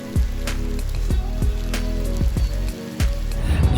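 Heavy rain patters steadily on an umbrella in hot equatorial weather, close and loud, with intermittent low thuds and drips over a dense wash of falling water.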